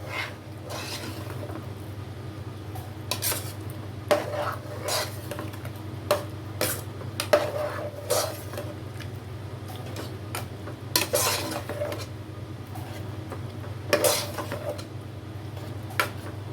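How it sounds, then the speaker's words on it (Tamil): A spoon stirs sweet pongal in a metal pot, with irregular scrapes and clinks against the pot over a steady low hum, and no one talking. "ஸோ இதை வந்து நம்ம கிளறி விட்டுக்கலாம்."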